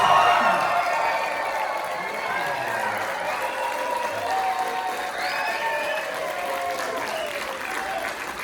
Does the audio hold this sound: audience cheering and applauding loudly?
yes